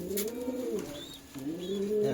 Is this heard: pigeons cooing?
yes